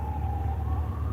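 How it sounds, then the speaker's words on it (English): A fire truck siren passes, its steady wail drifting slowly in pitch over continuous low traffic rumble, fairly loud and close throughout. "Oh, that's a fire truck."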